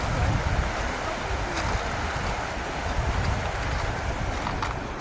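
A river flows in an outdoor setting with a steady, dense rush of water that fills the whole clip. It is fairly loud and close, with some wind noise on the microphone and no talk.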